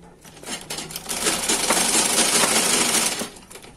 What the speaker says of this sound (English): So now we are just sewing all the way down, straight down.